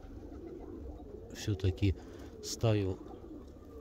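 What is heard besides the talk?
pigeons cooing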